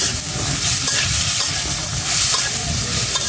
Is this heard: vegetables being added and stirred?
yes